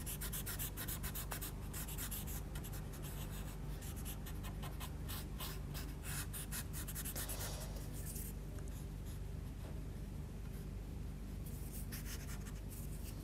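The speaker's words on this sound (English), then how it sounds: "We'll take our paper stump and just blend this" A paper stump blends pastel across a paper surface, giving a continuous soft scratchy rubbing that stays steady and close throughout, with no talking.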